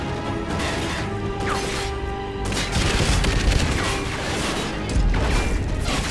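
Grenade blasts and gunfire fill a Call of Duty Ghosts firefight with dense, loud crashing booms. Sharp onsets near the middle and end are layered over continuous battle noise.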